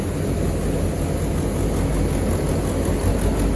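A back-to-back threshing machine used on wheat, mustard and chickpea runs with a loud, continuous heavy engine drone and mechanical rumble, steady and close throughout.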